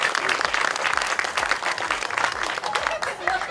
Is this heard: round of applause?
yes